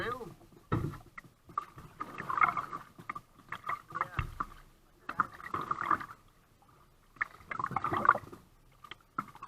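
Kayak paddles dip and splash in the water in irregular bursts, nearby and moderately quiet, with people talking between strokes.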